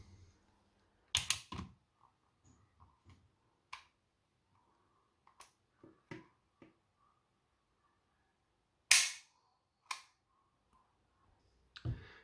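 A CZ Shadow SP01 CO2 BB pistol fires in a quiet room: a few sharp, crisp pops stand out among soft clicks of handling, with long silent gaps between them.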